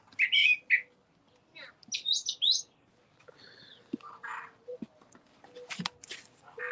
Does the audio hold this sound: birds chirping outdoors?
yes